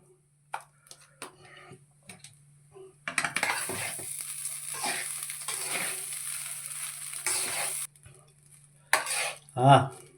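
Coconut rice with salt being stirred in a pan, with scattered metallic taps of the spoon, then a stretch of continuous scraping and light sizzle before more sharp knocks against the pan.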